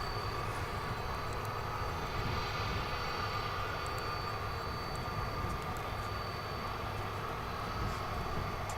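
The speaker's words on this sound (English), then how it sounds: "it's an Airbus A300" Airbus A300 airliner at DFW International Airport, heard as a steady, moderately distant jet engine roar that holds for the whole stretch with no voices.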